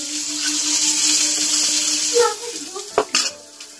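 Chopped carrots go into a hot pan of lightly fried garlic and ginger for chicken soup, a steady sizzle swelling briefly as they land, followed by a few close clinks and stirring scrapes near the end.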